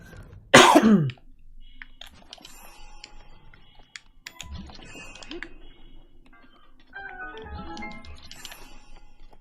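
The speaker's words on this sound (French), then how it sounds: "je tousse beaucoup là" A single sharp, loud cough up close, followed by quieter throat noises, clicks and scattered small sounds in a quiet room.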